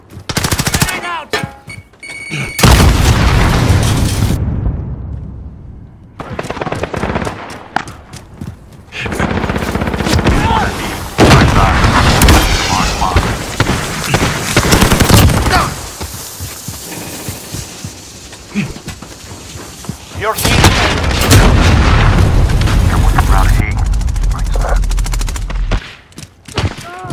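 Gunfire and grenade blasts from an online multiplayer Domination match in a first-person shooter, loud and sustained with bursts of automatic fire and heavy thumps, broken by short quieter gaps.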